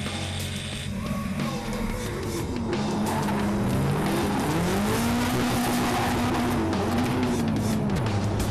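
A drift car slides sideways around a race track at a British Drift Championship round, engine holding a loud sustained wail that rises and bends with throttle, tires hissing continuously, heard close and alone.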